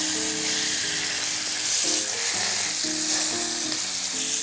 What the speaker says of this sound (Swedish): Och steka så att det får en karamelliserad stekyta.